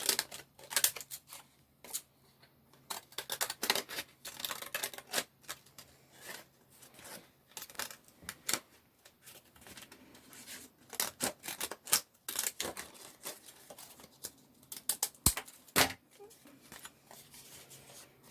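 Repeated snipping of scissors through paper, close by, in irregular bursts of short crisp cuts with brief pauses between.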